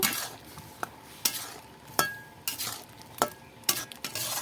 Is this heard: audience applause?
no